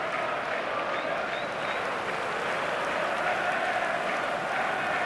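A capacity stadium crowd in the eFootball 2026 football game between Manchester City and Napoli, applauding and roaring in a dense, steady wash of noise.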